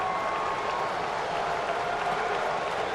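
Crowd applause and cheering filling a baseball stadium during a Cardinals at Braves game, a steady, distant wash of clapping without pause, moderately loud.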